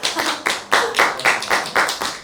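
Hands clap in a studio interview, about eight sharp, evenly spaced claps from a few people, close and distinct with brief gaps between them.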